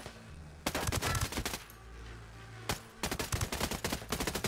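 Machine gun fire in Ghost Recon Breakpoint comes in two loud, rapid bursts, each several seconds long, split by a short lull and a single heavy shot, with no talking.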